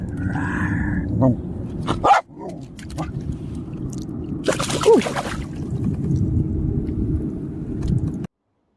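A dog growls and barks on a Florida west coast fishing trip, a short sharp outburst near the start and a louder bark burst mid-clip, with steady wind or boat noise and some talk around it.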